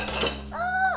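Dishes and cutlery clink in a home kitchen: a short rattle of crockery, then a single bright ringing chime from a pot or plate that hangs for about half a second, close and clear.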